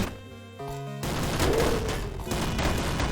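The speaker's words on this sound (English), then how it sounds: "I really like the thing that makes blocks blow up and shoot bullets ahead of them" Blocks blowing up and bullets firing in the video game Downwell: a sudden burst of rapid crackling blasts follows a brief chiptune tone, then the explosive noise rattles on for a couple of seconds.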